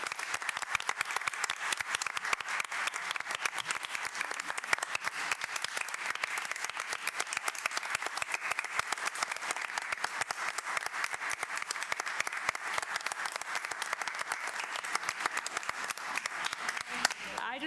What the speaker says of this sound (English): So thank you, and I'm going to applaud you myself.